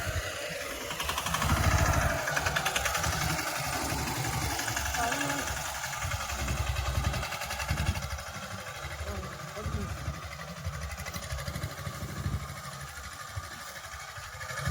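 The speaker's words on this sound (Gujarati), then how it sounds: "આ પોતાના સનેડા દ્વારા અથવા મિની ટ્રેક્ટર, ઘણી બધી જગ્યાએ આને મિની ટ્રેક્ટર પણ કહેવામાં આવે છે" A mini tractor's engine runs steadily while it sprays pesticide over a peanut crop in a field. The drone is loud, close and continuous with a rapid mechanical chatter, slightly louder early on and then even.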